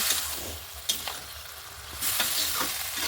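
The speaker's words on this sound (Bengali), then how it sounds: "সবজিটাকে নাড়াচাড়া করে দেব।" Boiled mixed vegetables stirred into fried spice paste in a pan for a winter vegetarian curry, a steady close sizzle with occasional scraping strokes of the spatula, no voices.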